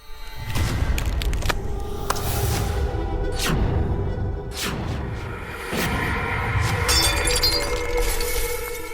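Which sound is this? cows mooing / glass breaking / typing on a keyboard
glass breaking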